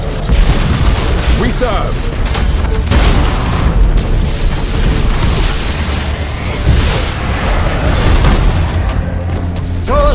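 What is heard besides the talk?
Thunderhawk bombardment explosions in video game Battlefleet Gothic Armada 2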